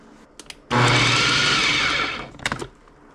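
A food processor whirs loudly for about a second and a half, steadily chopping peppers for tomato canning, then spins down, with a few clicks and clatters of the machine before and after.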